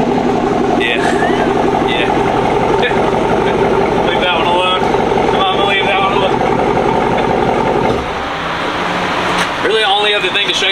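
A 2023 GMC Denali truck fitted with an AWE exhaust idles with a steady low rumble that holds for about eight seconds before easing off briefly, with voices talking nearby over it.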